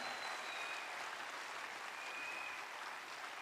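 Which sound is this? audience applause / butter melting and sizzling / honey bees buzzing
audience applause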